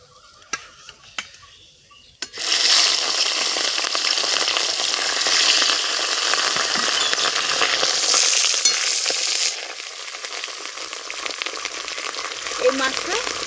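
Rui fish pieces frying in a small pan (karahi), a loud steady sizzle that starts abruptly after a couple of quiet seconds of clinks and continues densely, easing slightly near the end.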